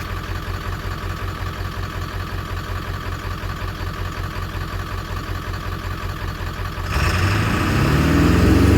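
A Ford 7.3 Powerstroke diesel in an OBS truck with an electric fuel conversion idles with a steady, even clatter that swells noticeably louder near the end.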